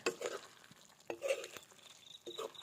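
Chicken is stirred with cumin powder in a pan as the water cooks off. Faint, soft scraping strokes land in short bursts, quiet and close, with no talk.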